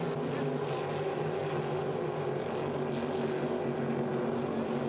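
H350 hydroplane racing boats run a course at St-Félicien, a steady, droning engine tone held at moderate distance, fairly faint and unbroken throughout.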